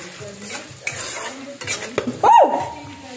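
Flat beans frying in a pan with only salt and turmeric, heard as quiet sizzling with scattered pops and stirring scrapes, ending in a short sharp burst of louder spattering.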